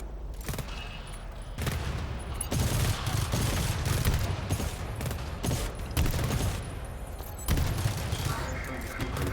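A sentry turret in the GTFO video game fires in long rattling bursts of rapid gunfire with booming impacts, while players talk over the shooting.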